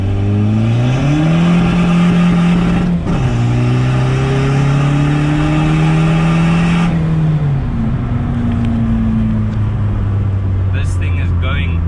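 A Honda Civic EK with a B20V engine revs up through second gear, pitch climbing steadily, then dips and climbs again, loud and close, with a voice talking over it.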